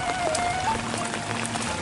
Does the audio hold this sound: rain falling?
yes